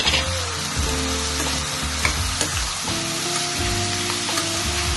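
Soaked black-eyed peas tipped into hot oil in a pan, a loud close crackling sizzle with stirring clatter throughout.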